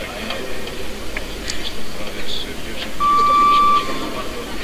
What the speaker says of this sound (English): 30-second buzzer in the background